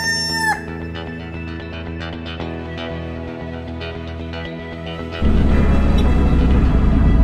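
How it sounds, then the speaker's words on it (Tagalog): A native chicken crows once, loud and close, with its call fading out, then a busy, noisy background that swells sharply into a loud rumble near the end. "Native chicken."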